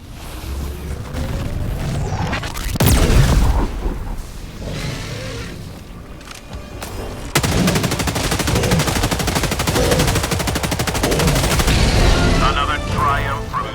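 Heavy gunfire from the most powerful gun in Helldivers 2: loud booming blasts near the start, then a long sustained rattle of rapid shots with explosive rumble, under a voice.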